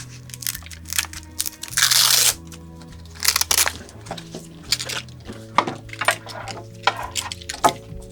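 Packaging for a Lemurstrap camera strap is handled and torn open, with crinkly rustles and crunchy bursts of wrapping between soft taps and knocks, close and in irregular spurts.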